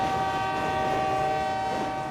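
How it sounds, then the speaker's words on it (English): A train on a rail line beside a highway wreck site sounds a sustained horn blast, loud and steady throughout, over a low rumble of rolling cars. "Here comes the train now."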